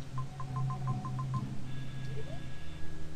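Telephone ringing in the video game Ice Metal: a rapid train of about nine electronic ring pulses, loud and close, followed by a steadier warbling tone over game background noise.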